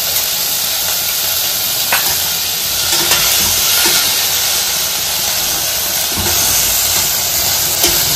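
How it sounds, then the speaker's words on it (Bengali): Salted water poured into a hot cooking pan with tomatoes, giving a loud, continuous steamy hiss and sizzle close up, with a few faint clinks and no talk. "আগে নুন দিয়ে জলটা দিয়ে দিই"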